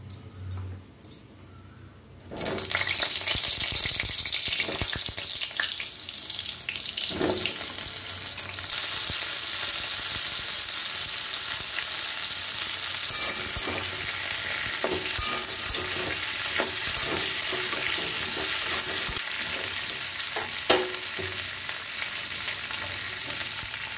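Pointed gourd (potol) hits hot oil after a brief quiet moment, bursting into a loud, sustained sizzle with scattered scraping and stirring clatters close by.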